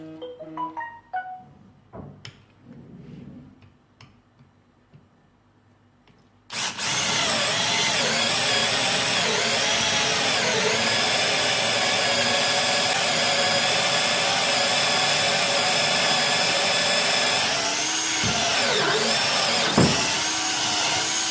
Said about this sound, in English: And let's drill on a wood.